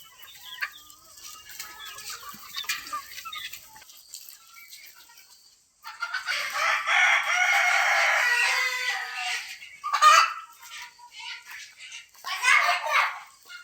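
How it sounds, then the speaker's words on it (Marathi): A rooster crows loudly nearby in a long drawn-out call, followed by shorter clucking bursts, with faint background chatter earlier. "इथं बघा ही कोंबडा कसा आहे मित्रांनो"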